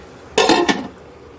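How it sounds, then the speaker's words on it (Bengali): A lid set onto a cooking pan while making cabbage with fish head: a single quick metallic clatter with a short ringing rattle, close and clear against a quiet kitchen. "একটু চাপা দিয়ে দিচ্ছি"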